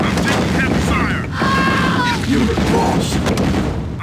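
Dense gunfire and booming explosions from a 2v2 real-time strategy battle roar continuously and loudly, with radio-style unit voice lines calling out under the din.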